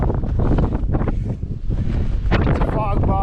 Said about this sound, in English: Pretty gusty winds.